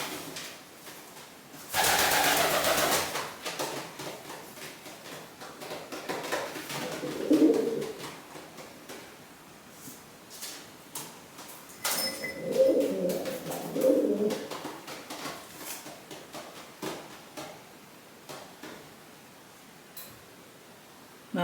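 Rescued pigeons coo in low, soft bursts around the middle and later parts, alongside a loud rustling flurry of wing flapping near the start, with quieter ruffling and shuffling in between.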